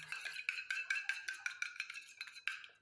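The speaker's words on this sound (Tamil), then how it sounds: "இந்த மாதிரி நல்லா அடித்து கலக்குனிங்கன்னா க்ரீம் பதத்துக்கு வந்துடும்" Rapid, rhythmic clinking of a whisk or spoon against a bowl while coconut oil and aloe gel are beaten into a cream, close and fairly quiet with no talking.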